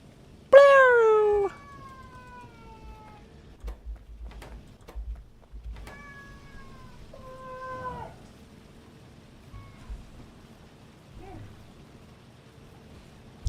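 A pet cat whines and meows close by: a loud drawn-out meow at the start, then a few shorter, fainter meows with quiet shuffling between them.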